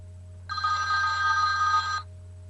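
A telephone rings once on a radio call-in show, a single sustained bright electronic ring of about a second and a half over a steady low studio hum, with no talk during it.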